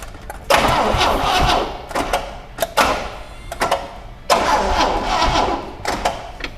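A long-stored barn find Pontiac LeMans cranks over and tries to catch in several loud, close bursts of churning, separated by short pauses.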